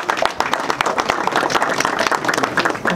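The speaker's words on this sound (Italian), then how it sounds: "Giuseppe La Rosa, quindi Pirolandia Firox, a cui faccio un applauso e un saluto." Audience applause at a fireworks festival, a dense, steady patter of many hands clapping close by, running unbroken for the whole stretch with some crowd murmur mixed in.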